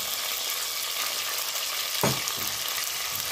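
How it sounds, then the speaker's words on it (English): Onions with green chilies frying in hot oil in a pan, a steady close sizzle throughout with a brief louder crackle burst partway as ingredients hit the oil. "I put the onions and my onions to fry"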